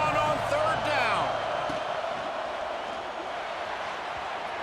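Stadium crowd roars steadily at a college football game in EA Sports College Football 26, a dense, loud wash of cheering that swells briefly at the start and then holds as a continuous backdrop.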